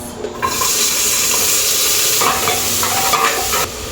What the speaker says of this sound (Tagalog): Lalagyan ko siya ng sibuyas, bawang, and then kamatis.